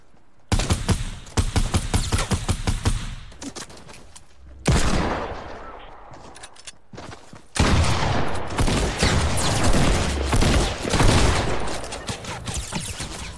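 Heavy video game gunfire in dense, loud bursts of rapid automatic shots, broken by two short pauses before the firing resumes even louder.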